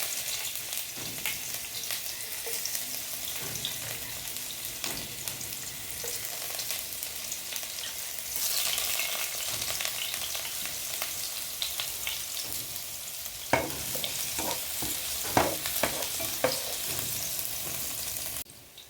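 Garlic frying in hot cooking oil in a pan for a Filipino sautéed vegetable dish, continuous crackling sizzle that grows brighter midway, with a few sharp stirring clinks near the end.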